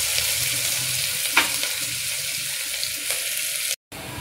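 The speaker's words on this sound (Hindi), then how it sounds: "प्याज डालते हैं, अब इसमें प्याज डालते हैं।" Onions frying for spicy chana dal, a steady broadband sizzle in the pan with a single sharp clink of a utensil partway through, close and continuous, then a brief dropout near the end.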